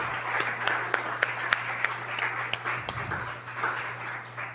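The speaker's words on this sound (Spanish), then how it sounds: "Denle un aplauso al Señor," Church congregation applauding, a moderate round of clapping with a few sharp louder claps standing out over a steady low hum.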